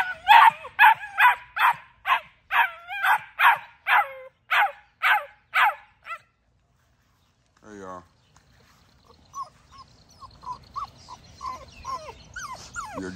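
XL pitbulls bark in a rapid, loud series of about a dozen evenly spaced barks outdoors, followed by a pause, a short growl-like burst and then quieter yips and whimpers.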